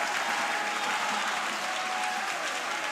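Steady, dense applause from a large crowd at a Paralympic badminton match in Tokyo, sustained and loud throughout without a break.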